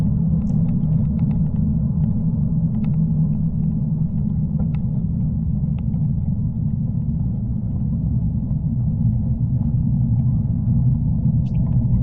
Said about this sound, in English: Some of these trucks were of concern, like that one just went past me.